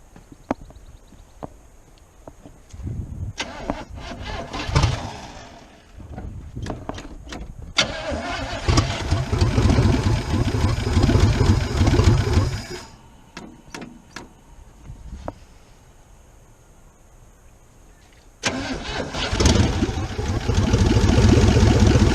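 A 1977 Chevrolet Cheyenne 20 4x4 pickup, unstarted for 16 years, cranks in several bursts, catches and runs rough, dies, then fires again into a loud uneven idle, with clicks and faint voices between attempts.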